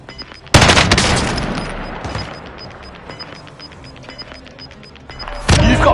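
Rapid gunfire in a shooter video game, a loud burst of automatic fire that trails off into scattered shots, then another sharp burst at the end, close and intense.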